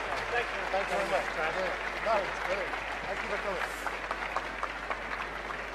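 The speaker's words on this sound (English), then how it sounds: "Can we Sir. get a round of applause for Raphael?" Applause at a Comic Con panel in London for a guest named Raphael, a moderate wash of clapping from the audience mixed with crowd chatter and voices throughout.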